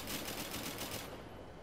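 A short burst of rapid enemy gunfire in Arma 3 rattles out in quick repeated shots, faint and somewhat distant, stopping abruptly after about a second, with no talking.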